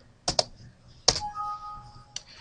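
Keys on a Vertex VX-231 UHF handheld radio keypad are pressed in a few quick clicky taps close by, with a brief electronic beep tone between presses.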